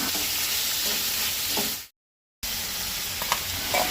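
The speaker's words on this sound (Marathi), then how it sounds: "दोन कांदे उबे चिरून घालता. अशें ते बरे तेलार भाजून घेवंक जाय." Chopped onions frying in hot oil for butter chicken, a steady broadband sizzle that cuts out completely for about half a second midway, then resumes with a few small pops and crackles.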